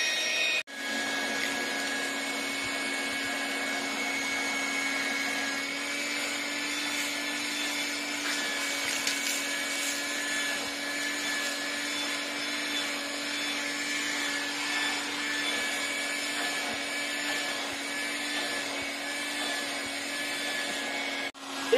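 A Stinger 2.5 gallon wet/dry shop vac runs continuously and close by with a steady whining motor drone and airy rush, holding an even pitch and level for about twenty seconds before cutting off at the end.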